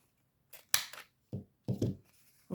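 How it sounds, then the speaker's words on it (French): Scissors snip the corners off thin printer paper for a scrapbook page: about four crisp close cuts in quick uneven succession, separated by near silence. "Je vais couper les coins là."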